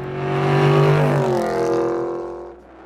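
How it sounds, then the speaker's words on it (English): A low-slung 1965 Bizzarrini A3/C race car roars past up close, its engine note loud and swelling, then fading and dropping in pitch as it moves away. "So the car is very low, very fast."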